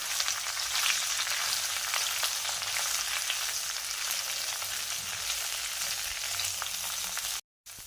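Chopped okra for masala bhindi fries in hot oil, giving a steady, dense sizzle close up with no voices, briefly cut off near the end.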